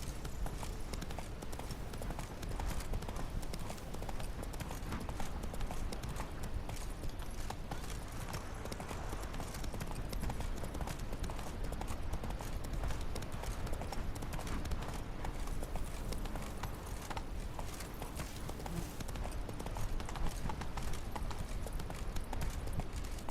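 Horse hooves clip-clopping steadily as a rider travels in The Witcher 3, a continuous rhythmic trot of hoofbeats at moderate loudness under faint background ambience.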